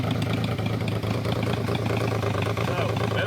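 A restored Yamaha motorcycle, an XS-series or SR500 with a rebuilt vacuum fuel tap, idles just after starting, a loud steady low rumble with even pulsing from close up.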